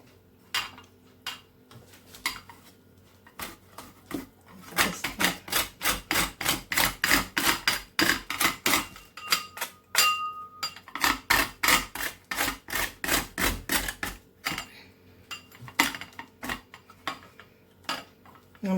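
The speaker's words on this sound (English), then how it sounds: "This is lemon from the freezer. So I'm going to grate out." Frozen lemon scraped against a metal grater in a home kitchen while baking a birthday cake, a fast run of crisp rhythmic rasping strokes that speeds into a dense series, then slows into a scattered few scrapes.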